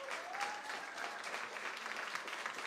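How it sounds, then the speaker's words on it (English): Audience applause at a live outdoor arts festival concert, a steady wash of clapping from a crowd at moderate distance, faint overall and without speech. "Can I get a big round of applause?"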